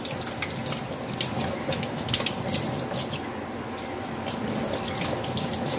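Ribbonfish (vam) rinsed under a running tap into a sink, with a continuous splashing water stream and small irregular spatters, close and fairly steady, without talk.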